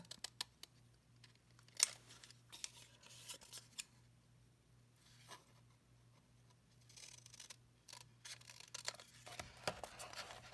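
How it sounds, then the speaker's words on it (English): Scissors cut through a leather sandal pattern, giving quiet, close snips and rasping cuts scattered over ten seconds. A low hum sits underneath, and a cluster of louder cuts and handling comes near the end. "First, I'm cutting off that 1 inch extra."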